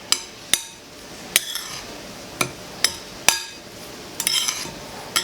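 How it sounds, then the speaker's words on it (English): A spoon clinks against a bowl several times at uneven intervals while flour mix and sugar are stirred together. The sharp taps sit up close over a quiet, scraping background. "I'm going to just stir those together."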